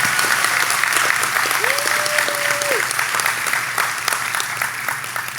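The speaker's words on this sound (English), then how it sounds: "Applause." Sustained applause from a large commencement crowd at a college graduation ceremony, a steady even wash of clapping throughout, with a brief tonal whistle-like sound rising briefly above it.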